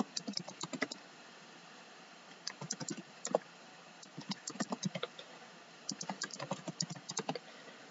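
Soft, quick clatter of a computer keyboard, typed in irregular short bursts with brief pauses, close but quiet, with no voices over it.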